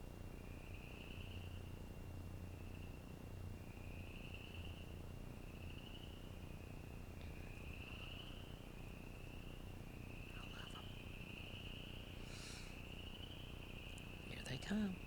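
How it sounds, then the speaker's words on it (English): Frogs croak in a steady evening chorus alongside chirping crickets, a continuous pulsing trill that holds throughout at a moderate, even level with faint rustling near the end. "They're kicking off their froggy sonata for the evening."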